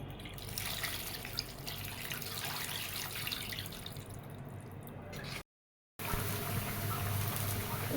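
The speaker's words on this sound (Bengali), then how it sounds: "আমি এখন একটু পানি দিয়ে দেবো" Water poured and dripping into a bowl of hand-mixed potato, eggplant and fish for a Bengali chorchori, a steady close splashing, trickling wash that runs throughout and breaks off in a brief silent gap.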